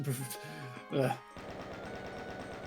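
Rapid, evenly repeating gunfire from the video game Doom follows a brief stretch of someone talking, continuing steadily at moderate volume to the end.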